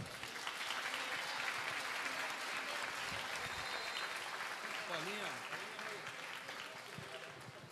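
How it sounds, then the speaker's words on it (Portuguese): An audience applauds Juca Ferreira at a public talk, sustained crowd clapping that stays dense and even throughout, with a voice briefly audible over it midway. "uma salva de palmas"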